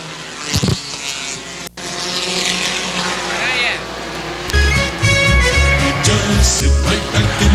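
Dirt modified race cars roar around the dirt oval at Airborne Speedway in Plattsburgh, New York, engines loud and continuous with a surge as cars pass close near the end, alongside crowd and track ambience.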